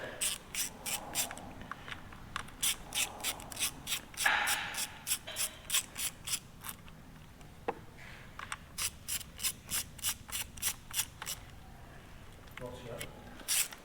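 A ratchet spanner clicks rapidly while undoing bolts on a Rolls Royce, a close metallic tick-tick in repeated bursts with brief pauses between them, and people talk over some of it.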